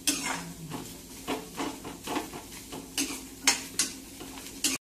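Shellfish roasting and being stirred in a pan, with close rhythmic scraping and clattering strokes and a light sizzle underneath, coming in repeated bursts.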